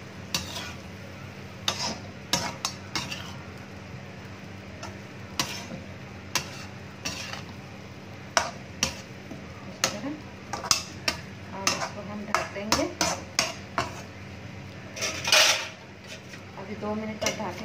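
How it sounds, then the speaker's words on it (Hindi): Aloo baigan sabzi of potato and eggplant being stirred in a pan, giving a run of scattered spoon clinks and scrapes against the metal with faint sizzling underneath and a brief louder scrape near the end. "इसको हम अच्छे से चला देंगे अभी।"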